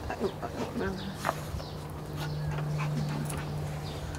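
A puppy whimpers and whines in a yard, with short high cries scattered through the first half over background noise and a steady low hum.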